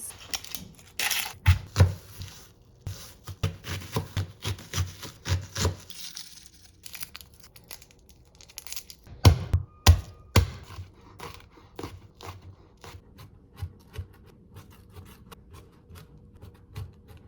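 A knife chops 1.5 onions and three cloves of garlic on a board, with irregular close taps and scraping strokes, dense bursts at first, then a pause, then sparser cuts.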